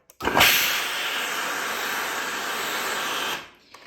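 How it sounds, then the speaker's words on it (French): A handheld garment steamer blows a steady, loud hiss of steam over crocheted raffia, starting abruptly and holding constant for about three seconds before cutting off. "avec la vapeur, donc ici, j'ai qu'une main, donc excusez-moi si ça bouge un petit peu, on va passer la vapeur. Donc ici, ça va faire du bruit."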